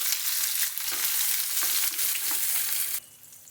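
Garlic, onion, dried chillies, cardamom and cinnamon sizzle steadily in hot oil in a pan, a loud continuous crackle with brief stirring scrapes, cutting off sharply near the end.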